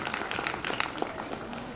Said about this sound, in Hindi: क्या जोरदार ताली आप सभी लोगों के लिए